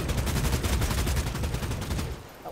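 Rapid gunfire in the video game Bloodhunt, a loud sustained burst of closely spaced shots that runs for about two seconds before trailing off.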